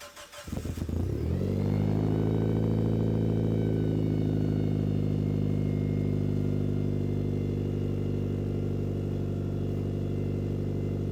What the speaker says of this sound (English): let's get a cold start for the boys, move the Evo so we have more space to work with